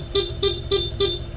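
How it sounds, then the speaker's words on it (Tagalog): Four short, bright horn honks in an even rhythm, each a quick beep of the stock horn on a Honda ADV160 scooter over a low engine rumble. "pag bumusina, stock horn tutunog"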